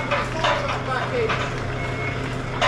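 Tonal reversing beeps from a truck backing in at a vehicle dismantling yard, repeating steadily over constant engine and yard noise, with some voices in the background.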